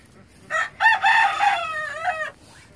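A young rooster crows once near a chicken coop, a single drawn-out, strained call lasting under two seconds after a couple of short opening notes, loud and close against a quiet background.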